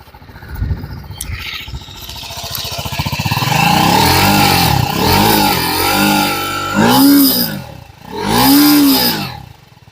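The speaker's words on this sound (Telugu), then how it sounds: "అలాగే మనకి ఎగ్జాస్ట్ నోట్ కూడా ఒకసారి చూద్దాం" A 2025 TVS RR 310 with a 312cc single-cylinder engine idles, then gets blipped in several rising-and-falling revs, loud and close, with the last two surges the strongest.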